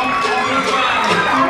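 Crowd at a women's MMA fight cheering on its feet after vicious knees, a loud, sustained roar of many voices mixed with shouts.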